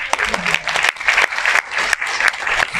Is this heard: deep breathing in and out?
no